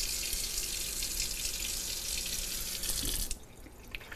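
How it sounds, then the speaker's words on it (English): Tap water runs steadily into a sink to rinse a part from a Gaggia Classic Pro espresso machine, a close, full hiss that cuts off abruptly near the end, leaving a few faint drips. "I'm going to actually just run a little bit of water here first."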